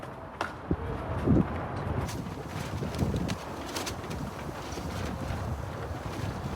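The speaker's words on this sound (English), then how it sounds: "It's friggin' wind, I told you." Strong wind of about 20 to 25 miles an hour blows straight into the microphone, a continuous low rumbling buffet with a few louder gusts and thumps.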